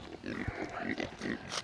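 Pigs on a farm grunt and snuffle up close, a quick run of low, rough grunts at moderate volume with no speech over them.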